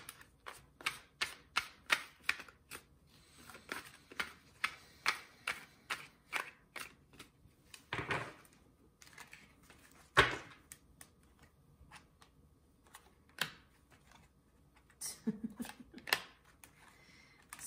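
Oracle cards being shuffled during a reading: a long run of quick, crisp riffling flicks in an irregular rhythm, close by and fairly quiet, with a couple of louder slaps and no talking.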